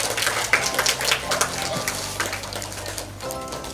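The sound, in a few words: children applauding classmates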